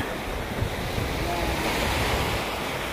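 Ocean surf washing steadily onto a beach at sunset, a continuous loud broadband roar of breaking waves with wind noise on the microphone and no clear talk.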